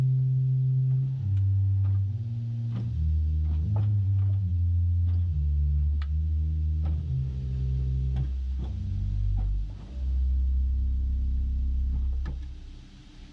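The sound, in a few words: wooden 16-foot open diapason organ pedal stop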